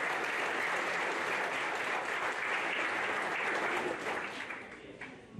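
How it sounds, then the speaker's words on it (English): A high school spring sports banquet crowd gives a round of applause for five volunteers: steady, full clapping from many people that stays strong, then tapers off near the end. "So a nice round of applause for those 5 people"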